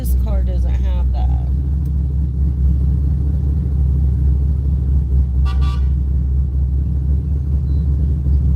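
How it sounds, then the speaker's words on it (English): A car horn toots briefly a few seconds in, over a steady low rumble of idling and passing vehicles on a street by Old Town Cemetery in Lynchburg, Virginia, with a voice talking near the start. "Honking at me won't get you anywhere any faster."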